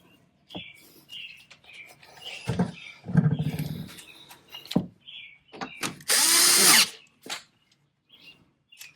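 A power drill tightens bolts on the front bumper of a Porsche Panamera 971 in several short bursts, the longest whirring for about a second near the end, between clicks and handling noises in a quiet space. Birds chirp faintly in the background.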